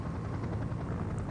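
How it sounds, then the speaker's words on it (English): Helicopter hovering over an offshore platform, a steady dense rotor and engine roar with faint rhythmic beating, loud and close throughout a very short stretch. "the downdraft from the helicopter picks up the box, throws it over the handrail"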